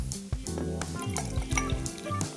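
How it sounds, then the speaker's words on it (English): Water pours and splashes steadily into a container being filled for an orchid arrangement, close and continuous, with faint musical tones underneath. "I actually fill it with water."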